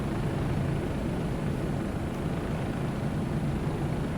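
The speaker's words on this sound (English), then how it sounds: "flying around with this helicopter" A Bell 407 helicopter flies over the Grand Canyon in Microsoft Flight Simulator 2024, with a steady, loud rotor and turbine drone filling the whole stretch without a break. No one speaks.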